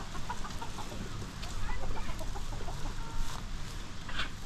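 A desi country hen clucks softly while being set on a clutch of eggs, making short, close, irregular murmurs and grumbles over faint background noise.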